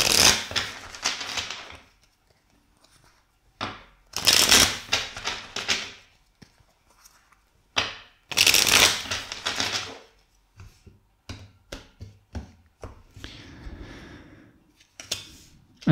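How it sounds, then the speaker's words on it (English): Tarot cards shuffled in three bursts of rapid riffling and flapping, separated by pauses, followed by softer scattered taps and slides of cards being handled. "Let's shuffle three times."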